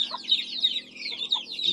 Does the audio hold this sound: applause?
no